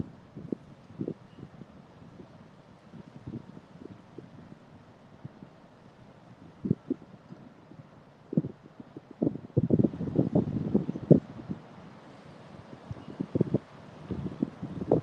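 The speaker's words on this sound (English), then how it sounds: "The wind is just too extreme." Strong gusty wind buffets the microphone outdoors beside the Chattahoochee River at low water, steady rushing noise with louder irregular thumps and bursts, no voices.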